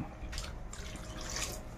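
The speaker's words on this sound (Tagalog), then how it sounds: "At konting tubig, isang basong tubig." A glass of water poured into a cooking pan of adobo with whole peppercorns and a little oil, a brief close splashing trickle with no talk.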